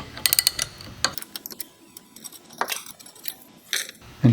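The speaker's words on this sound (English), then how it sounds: "hold the ratchet there, and twist this nut down" A ratchet and wrench tighten a nut on camper stairs, giving quick bursts of clicking and metallic ticks with short pauses between turns, close by.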